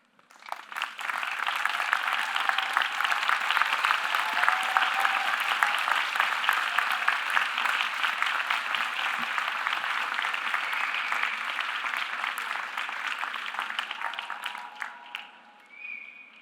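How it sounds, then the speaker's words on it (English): A large crowd applauding at a Boston University law school commencement, dense sustained clapping rising quickly and holding strong for about thirteen seconds before tapering off, with a few cheers. "giving a round of applause for everyone who's here today and watching from afar"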